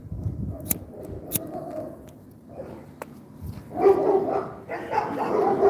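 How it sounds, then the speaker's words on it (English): Dogs bark indoors, a few sharp, widely spaced barks at first, then a louder, denser stretch of barking and yapping near the end. "Fucking dogs."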